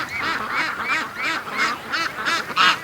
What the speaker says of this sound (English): It was brutal getting this rush of ducks to come down here.